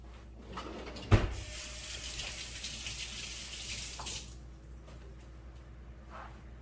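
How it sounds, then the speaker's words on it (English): Hands are washed under a running kitchen tap: steady splashing water with a sharp knock early on, the flow shutting off near the end and leaving quiet room noise. "Wash my hand."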